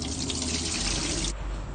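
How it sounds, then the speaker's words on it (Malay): Tap water running steadily into a sink while rice is rinsed, a close continuous splashing rush that drops a little in level near the end, with no voices. "Cuci beras itu sebanyak 3 kali supaya beras itu betul-betul"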